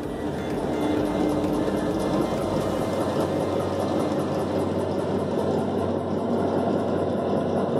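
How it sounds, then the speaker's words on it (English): A small electric motor in an Arduino RPM-measuring project runs at increased speed, producing a steady, loud mechanical hum and whir that continues unbroken throughout. "So now see, speed of the motor is increased and now it will detect."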